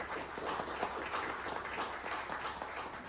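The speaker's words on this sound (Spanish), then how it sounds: "para quien pido un fuerte aplauso" Audience applauding for the town mayor at a civic gathering, a faint, continuous patter of many hands clapping for about three seconds with a distant, roomy quality.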